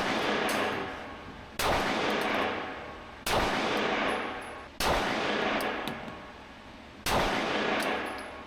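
Glock 43X pistol firing slowly outdoors, five loud cracks spaced about one and a half seconds apart, each trailing off in a long echoing decay, with no talk.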